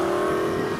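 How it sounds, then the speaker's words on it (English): An Indian FTR S motorcycle fitted with a race replica exhaust pulls hard under acceleration on the road. The loud, steady engine drone holds close and sustained through the short burst, with no talking over it. "Listen to that exhaust."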